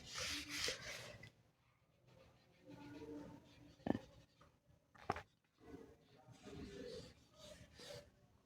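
Pen or chalk scratching out math questions by hand: irregular bursts of rasping strokes and scribbles with pauses between them, close and fairly quiet, with a couple of sharp taps.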